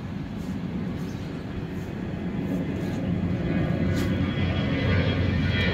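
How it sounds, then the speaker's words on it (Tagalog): A steady low roar of an airplane passing overhead near an airport, rising gradually in loudness, with broadband rumble and no talking. "malapit lang kasi dito ang airport mga idol, kaya ayan. Ng aeroplano."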